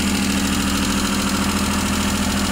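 A Suzuki F6A engine, freshly back from a general overhaul, idles steadily at close range, giving a loud, continuous mechanical hum with a faint knocking texture and no voices.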